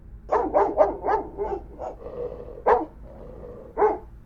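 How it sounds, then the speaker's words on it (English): A dog barks downstairs in a house, several quick barks in a burst followed by two more spaced barks, close and loud against a quiet background. "we heard the dog barking"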